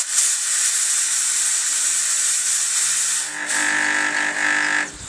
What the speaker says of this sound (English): That's basically telling me that the pump hasn't got anything to actually pump through the pipes